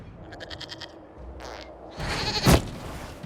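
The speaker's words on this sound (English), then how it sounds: "we discovered this man attacking the building with a goat" Goat bleats in the video game Dragon Age Inquisition, a short wavering bleat followed by a louder, harsher cry, set against game sounds and ambience.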